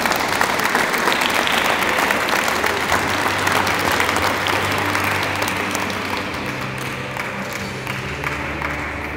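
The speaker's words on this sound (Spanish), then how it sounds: "y a Juan Carlos Escalón, con esos calurosos aplausos, si está, por favor que pase para acá." Warm audience applause at a diploma ceremony for computer-course graduates. Dense, sustained clapping fills the room for about nine seconds, easing slightly toward the end with a low crowd murmur underneath.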